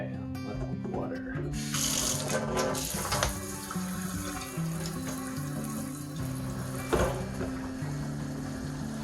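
Water pours steadily onto an onion seed tray filled with soil, a continuous splashing and trickling stream heard close up for the whole stretch, with background music underneath.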